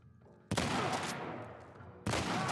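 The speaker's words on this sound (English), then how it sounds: "Oh, how are you shooting me?" Gunfire in The Last of Us Part I sounds as two heavy, close shots a moment apart, each a loud crack trailing into a rough, fading roar, with faint sounds before the first shot.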